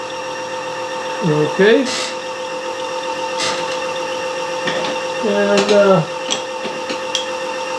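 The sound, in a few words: bench grinder running at tool sharpening station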